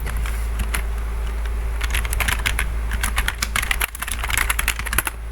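Rapid typing on a computer keyboard, bursts of crisp close key clicks with short pauses between runs, steady over a low background hum, no talking.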